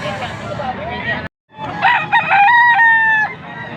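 Young roosters at a live poultry market crow loudly and close by, one long strained call following a short gap after a clucking, murmuring stretch of birds.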